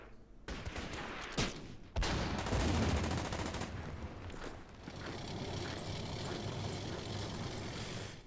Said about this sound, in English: Go ahead and open fire here.